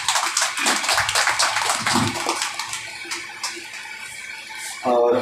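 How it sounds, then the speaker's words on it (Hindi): A congregation at a fasting prayer service applauds its pastor with dense, loud clapping that thins out over a few seconds, mixed with some voices. "हम सभी हमारे पास्टर के लिए जोरदार ताली बजाएंगे।"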